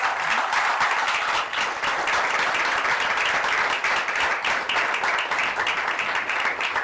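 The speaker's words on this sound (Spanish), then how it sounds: "Bríndale un aplauso al Señor" Steady, dense applause fills a church congregation for about seven seconds, loud and continuous with many hands clapping at once and no voices standing out.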